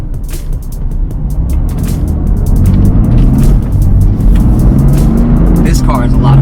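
An engine pulls hard as a tuned car, a project build with charge pipes fitted and boost on stage 1, accelerates in a loud, steady roar that builds and holds from start to finish.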